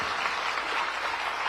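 A large audience at an International Biodiversity Day event in Bhopal, Madhya Pradesh, claps in dense, sustained applause that fills the hall evenly throughout.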